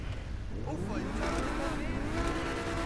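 Pegassi Tempesta sports car engine in GTA, revving with rising and falling whines that climb in pitch, then holding a steady, close drone with possible faint talk beneath.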